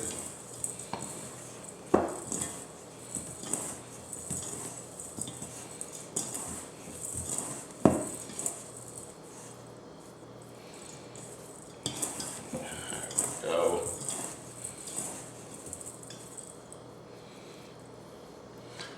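Raw shrimp tossed with a blackened seasoning blend in a bowl for tacos, giving soft wet shuffling and scattered clinks of utensil against the bowl, a few sharper knocks standing out, close and fairly quiet.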